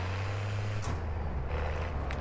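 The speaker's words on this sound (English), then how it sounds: "you saw and heard a giant truck coming. Oh no, he backed out." A giant truck reverses in a video game: a low, steady engine rumble with a sharp air-brake hiss partway through and a fainter hiss later, heard alone without talk.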